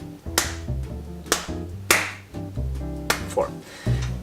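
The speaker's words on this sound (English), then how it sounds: "This book gets 4 claps." A person gives four crisp hand claps at uneven intervals, close to the microphone, over soft tonal background music.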